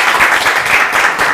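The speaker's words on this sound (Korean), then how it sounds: "격려의 박수 뜨겁게 한번 해주시면 감사하겠습니다" Warm applause from an audience at a university peace and unification student debate competition, steady clapping of many hands filling the room throughout, fairly loud and continuous with no break.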